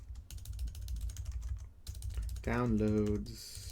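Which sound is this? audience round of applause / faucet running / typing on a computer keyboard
typing on a computer keyboard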